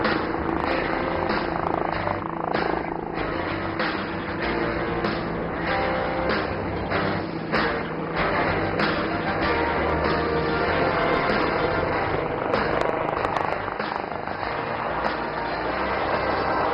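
HAL Light Utility Helicopter flying at the Aero India 2025 air show, a steady loud rotor and engine roar that continues without a break throughout.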